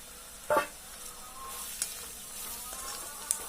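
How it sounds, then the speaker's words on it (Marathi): Spices sizzle softly in hot oil for a village-style aubergine and potato curry, a steady low frying hiss with a few faint clinks and scrapes of stirring. "मसाले एक पाच मिनटं परतून घ्यायची छान तेलामध्ये"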